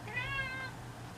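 A pet cat gives a single short, close meow that rises and fades within a second over a low indoor hum.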